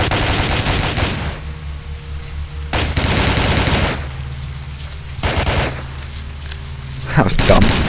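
Machine gun fire in the video game Stalker comes in three loud, dense bursts separated by quieter stretches, with a final short burst at the end.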